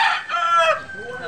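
A rooster crows once, close and loud, at a cockfighting arena, the call rising and then trailing off.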